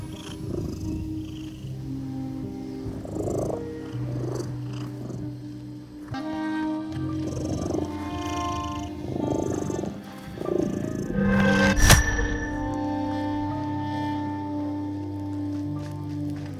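Low, rumbling cat purring in The Midnight Walk pulses in slow, repeated waves over a soft musical background, with a sharp bright chime near the middle.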